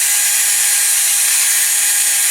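Hand sanding with P600 sandpaper on a Dinky Trojan van model being restored: a steady, continuous hiss of abrasive rubbing, close and fairly loud, even throughout with no pauses.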